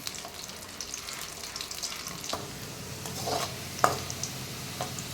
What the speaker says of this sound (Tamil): பூண்டு வந்து இந்த அளவுக்கு நல்லா வதங்கி வந்துடணும்